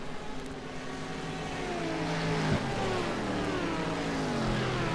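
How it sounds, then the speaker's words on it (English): Race car engines scream around the Suzuka circuit in a GT racing video game, a sustained high-revving drone with rising and falling pitch as cars pass, steady and loud without talking. "You could just hear the amount of screaming that these engines do."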